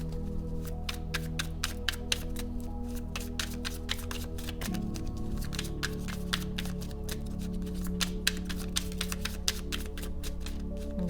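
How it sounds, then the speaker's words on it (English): Tarot cards being shuffled with quick crisp riffling taps, repeated in bursts over a low steady hum. "Give it one more shuffle"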